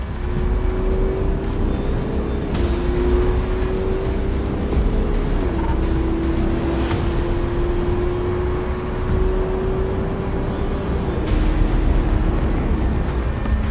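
Several cars race each other in a dense, continuous engine roar with a sustained tone that shifts pitch as gears change, while a few whooshing passes rise out of the din.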